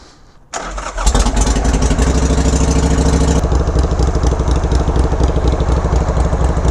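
A motorcycle engine catches after a brief crank and settles into a loud, steady, close idle, warming up with a constant low throb and no talk.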